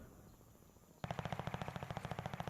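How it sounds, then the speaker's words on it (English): Rapid automatic gunfire in the video game Call of Duty on the map Bocage, a sudden burst of sharp, evenly spaced shots that starts after a second of quiet ambience and keeps rattling steadily. "A little bit of a rattle of gunfire across Bocage."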